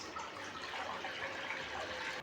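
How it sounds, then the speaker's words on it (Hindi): Water, measured at one litre, pours steadily into a kadhai on a stove over medium heat, making a continuous close splashing rush that holds even for a couple of seconds. "अब इसमें नाप के 1 लीटर में पानी डालूंगा।"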